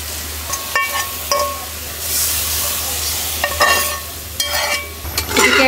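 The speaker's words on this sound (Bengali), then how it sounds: "এদিকে মাছের মাথা কষানো শেষ।" Fish head frying in a pan with ground coriander, cumin, turmeric, chili and fish spice, stirred in scraping strokes over a steady sizzle, with occasional clinks of the utensil; no talking.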